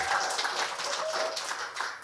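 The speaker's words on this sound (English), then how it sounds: "if we can give Novena and Charlie a round of applause" Wedding guests in Auckland applauding the newlyweds Novena and Charley, a dense, fairly quiet wash of many hands clapping throughout.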